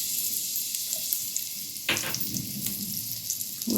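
Finely chopped garlic sizzles in hot olive oil in a pan, a close, steady frying hiss with a brief louder burst partway through as food is stirred.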